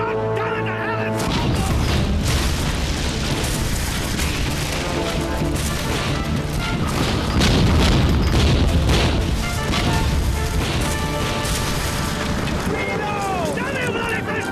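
Cannon fire in a naval battle between sailing warships, a dense continuous roar of heavy booms and crashing with shouted voices mixed into the din.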